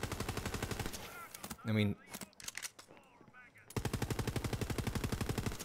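Corrosive gun in Borderlands 3 firing in rapid bursts, switching between automatic fire and five-round bursts, with loud rhythmic shots before and after a stretch where someone talks over the game.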